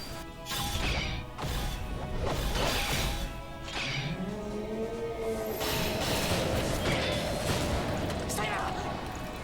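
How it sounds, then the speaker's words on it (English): Axe sword smashing down in an anime fight, a series of heavy crashing impacts and whooshes with a metallic ring, loud and close, mixed with talk and battle noise. "Berserker smashes down his axe sword with all his might."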